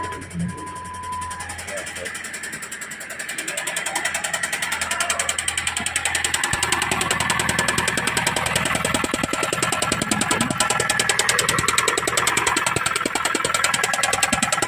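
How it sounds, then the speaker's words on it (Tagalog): A Jeep Compass 2.4L engine with a noisy knocking fault runs steadily in a workshop, a loud continuous mechanical clatter with fast rhythmic ticking that builds slightly after the first few seconds. "Maingay ng makina."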